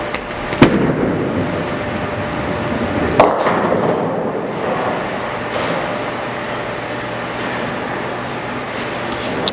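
A bowling ball rolls down the lane on an extreme outside line, a sharp crash of pins near the start, then a second impact around three seconds with rumbling lane and alley noise continuing loudly throughout.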